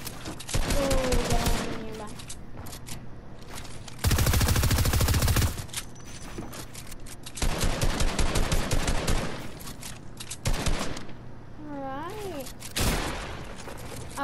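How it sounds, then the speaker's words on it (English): Rapid-fire SMG bursts in Fortnite, several long loud volleys of dense automatic gunfire separated by short pauses, with a player talking between them. "SMG. I mean, rapid fire SMG"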